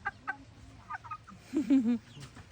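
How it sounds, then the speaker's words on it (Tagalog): Chicken held by a child giving a few soft clucks, close and quiet, with faint voices in the background. "Don't squeeze the chicken."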